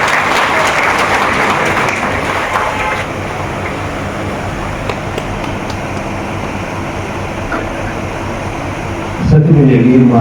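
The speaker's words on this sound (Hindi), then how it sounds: "जबरदस्त तालियां देंगे" Applause from an audience at a national-level best teacher award ceremony fills the first seconds, then fades into a steady crowd murmur before a sudden loud burst near the end.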